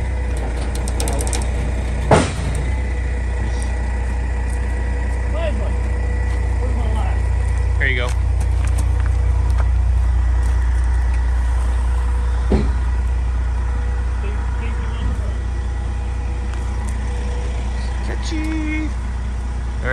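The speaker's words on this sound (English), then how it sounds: "Moving the truck forward." A Peterbilt semi truck's engine idles and rumbles steadily as the rig creeps forward, low and continuous throughout, with a few faint clanks and thumps and a voice briefly speaking.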